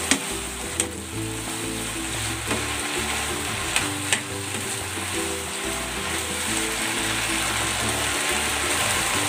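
Coconut milk cooks down in a pan for ginataang kamansi (breadfruit), giving a steady close sizzle and fry with a few sharp clicks and scrapes throughout.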